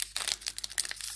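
A Premier Protein chocolate caramel protein bar wrapper is torn open up close, giving a quick series of crisp crinkling and tearing crackles.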